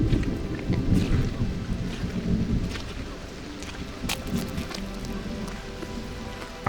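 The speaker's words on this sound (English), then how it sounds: "They stepped into the sudden downpour." Heavy rain pours steadily through a thunderstorm, with low rolling thunder rumbling in the first half and sharper crackles later, all fairly close and without voices.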